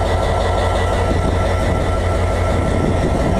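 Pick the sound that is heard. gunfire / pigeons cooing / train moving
train moving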